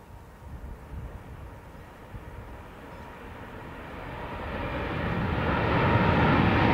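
A jet airplane at Dublin Airport roars as it passes, a broad engine rumble swelling steadily from faint to loud over several seconds with no talk.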